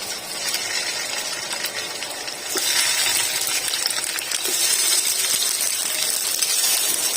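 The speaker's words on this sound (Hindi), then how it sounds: "हमने इसको हल्का सा फ्राई करना है कबाब को।" Mutton kababs fried lightly in oil in a pan, made without besan or egg: a steady, dense sizzle that swells louder partway through and keeps hissing close up, with no voices.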